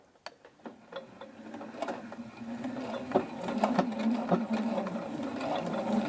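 A sewing machine runs a straight-stitch seam with a back-tack at each end, starting with a few clicks, then stitching in a rapid rattling whir that grows steadier and louder.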